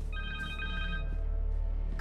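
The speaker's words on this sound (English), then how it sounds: "Connor's cell phone." A cell phone in the Spider-Man video game rings with a clear, repeating electronic trill over a low background hum.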